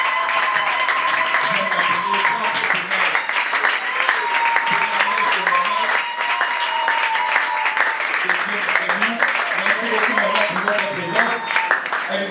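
An audience in a church gathering applauds continuously and loudly, dense clapping with voices and cheering mixed in throughout.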